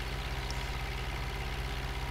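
A red tractor's engine runs steadily in the video game Farming Simulator 2013, giving an even low rhythmic throb with a dense mechanical drone above it, close and constant with no talk.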